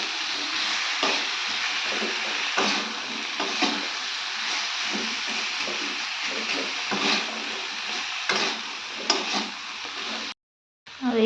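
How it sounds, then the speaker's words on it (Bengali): Bottle gourd greens frying in a pan with turmeric, ginger, cumin and green chilli, a steady close sizzle with occasional scraping stirs, cutting off briefly near the end. "দিয়ে এবার এটাকে এইভাবে ভাজবো।"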